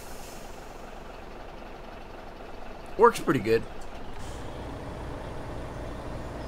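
A Mercedes-Benz Arocs truck in Farming Simulator 2017 hums with a low, steady engine noise in the background while someone speaks briefly.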